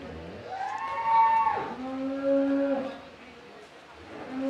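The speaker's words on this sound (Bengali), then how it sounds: "অনেক বড় গরু, অনেক বড়।" A large dairy cow that has just had her first calf lets out several long, close, drawn-out moos one after another, with a quieter one at the end.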